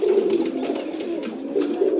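Pet pigeons coo close by in a continuous, low, throaty warble that rises and swells in soft pulses without pause.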